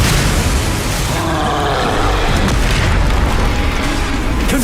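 A Confringo spell bursts into a fiery explosion in a wizarding video game, producing a loud, sustained booming roar with crackling debris that stays dense and steady for several seconds.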